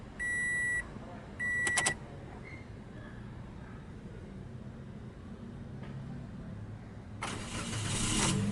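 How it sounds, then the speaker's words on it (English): Two electronic beeps sound at the start, followed by a quiet stretch, then the 1.3-litre engine of a 2020 Toyota Vios with manual transmission cranks and catches near the end, rumbling steadily. "twist the key like you would in a normal car"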